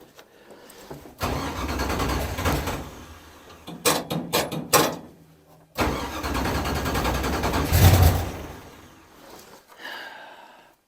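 A car engine cranks and catches several times but won't stay running, bursts of revving and sputtering cutting out between tries, close by and fairly loud.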